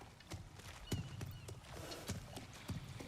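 Horse hooves clip-clop on the ground in God of War Ragnarök, a few spaced, fairly distinct steps alongside a brief whinny and snorting, quiet and moderately near with a faint game ambience behind.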